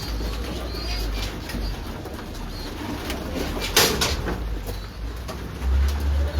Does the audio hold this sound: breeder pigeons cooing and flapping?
yes